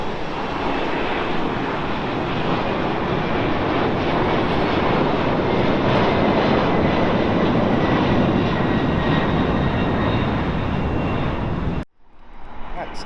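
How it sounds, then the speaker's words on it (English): A Delta Boeing 767 at London Heathrow gives a loud, sustained jet engine roar close by that fills the clip, then cuts off abruptly near the end. "That's Delta in its Sky Team livery. That's the 767."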